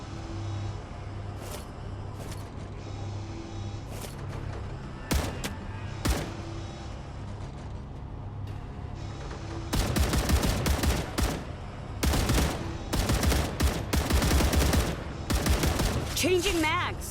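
Gunfire during an attack in the video game StarRupture: scattered single shots early on, then dense rapid bursts of automatic fire from about the midpoint, loud and close over a steady low drone.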